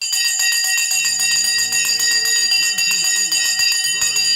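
A stock market opening bell rings on a trading and investing show, a rapid, continuous bright clanging that persists throughout while someone talks over it.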